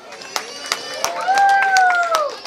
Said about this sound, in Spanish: Fuerte aplauso para todos ellos, por favor.